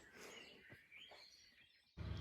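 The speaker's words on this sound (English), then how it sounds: "There's a little bird visiting. It's a bird with a red front. What is it called? Roodborstje." A European robin chirping in a garden, its thin, high calls faint and distant over quiet background, followed at the end by a brief louder rustling noise.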